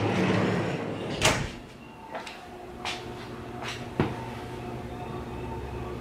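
Closet door in a Vancouver apartment being opened, giving a few light knocks and clicks spread across the moment, with soft indoor background hum.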